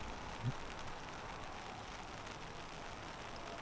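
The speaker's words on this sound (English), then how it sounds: "You can hear the raindrops falling on the tent." Rain falls on a tent set up in a garage, making a soft, steady patter of drops. The sound is faint and continuous, with no voices.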